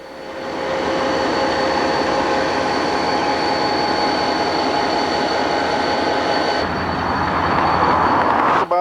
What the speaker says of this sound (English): He'll pull out of the siding with this train here, then back up on the main line about 2 miles to hook up to his original train